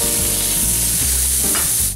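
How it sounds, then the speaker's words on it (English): Seasoned meat hits a buttered skillet for a ramen noodle dish and sizzles loudly and steadily, a dense, close frying hiss that stays even and fades slightly at the very end. "The meat is then added to the buttered skillet and cooks for 3 minutes"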